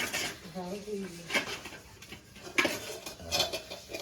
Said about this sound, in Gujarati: વાસણ ધોવાઈ ગયા